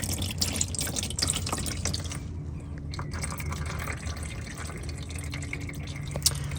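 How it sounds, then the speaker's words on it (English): Oil drains from a car's daily-driver engine during an oil change, a continuous liquid trickle and drip with splashy patter running steadily throughout, nearby and moderately loud. "drain out some of that oil."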